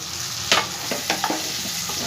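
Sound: fried potatoes added and stirred into sizzling spice mix

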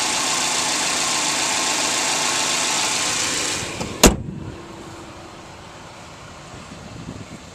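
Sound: 2004 Kia Spectra four-cylinder engine idling

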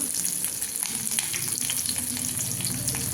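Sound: spices sautéing in a pan

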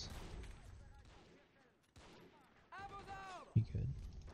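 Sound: machine gun fire in video game Men of War: Assault Squad 2

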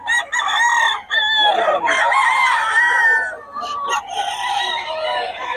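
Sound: rooster crowing

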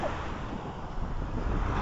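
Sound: sea waves on a beach, Vistula Spit

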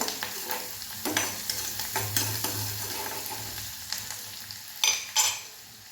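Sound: onion being sautéed in a pan

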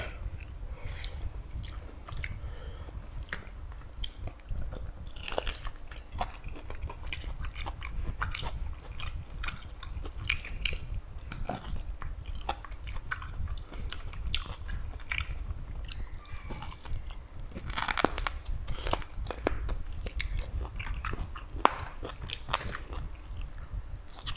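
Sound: chewing tender braised pork leg, crunchy

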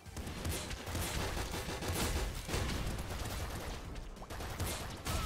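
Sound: gunfire shots in Nuclear Throne video game

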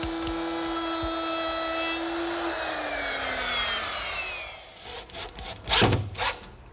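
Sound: router with 1/4-inch quarter round bit shaping wood edge

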